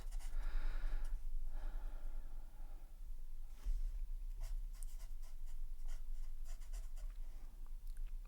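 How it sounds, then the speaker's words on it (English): Alcohol marker drawn across paper, soft close scratchy strokes in irregular bursts, with some breathing and sighs in between and no talk. "Let's draw some of that."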